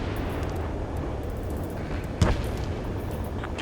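Ace Combat 7 game scene of a city under martial law with a deep continuous rumble like jet roar, and one sharp loud boom of gunfire or explosion standing out near the middle.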